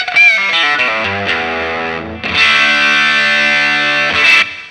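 Distorted electric guitar with effects sustains loud notes, picked first near the bridge and then toward the neck, so the tone shifts from bright and biting to rounder; a break midway, then a fuller sustained phrase, with no talking.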